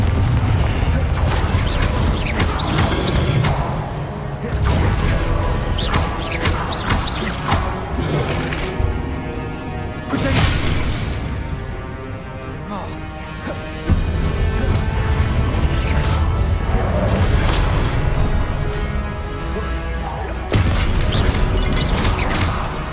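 Confringo fire spell blasts in Hogwarts Legacy, heard as a run of loud booming explosions and crashes at irregular intervals over constant game music and effects, with a few sharp impacts standing out.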